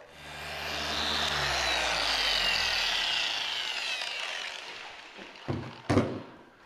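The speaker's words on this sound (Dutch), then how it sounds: "Zo, excentrisch polijsten zit er ook op." A dual-action eccentric polisher works the paint of a 2003 Volvo C70, a steady whirring motor hum that slowly rises and falls before winding down, followed by a few dull knocks near the end.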